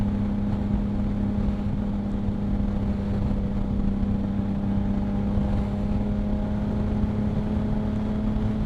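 A Yamaha MT-09 motorcycle out on a ride on a mild day gives a steady, continuous engine drone with wind rushing past, holding an even level throughout with no talking.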